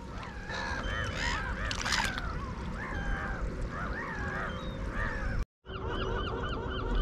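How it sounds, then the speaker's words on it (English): Loud honking and squawking birds call repeatedly, overlapping one another close by on a muddy riverbank, with a brief dropout near the end. "And noisy birds."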